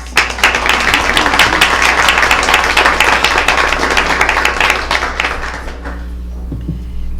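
At a school board meeting, a crowd claps steadily for several seconds, a dense, loud wash of applause that thins and fades out near the end.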